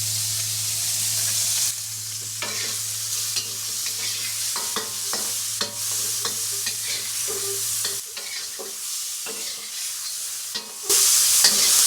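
Shrimp searing in hot oil in a pan for house special lo mein, a close, steady sizzle broken by repeated scraping and tossing clatter, with a low hum fading out midway and louder spitting near the end.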